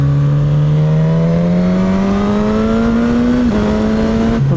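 A 2019 Suzuki GSX-S1000 motorcycle engine pulls hard and smooth, its loud steady drone climbing in pitch, dipping briefly at a gear change, then carrying on, with no voices.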